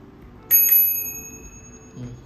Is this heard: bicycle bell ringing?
yes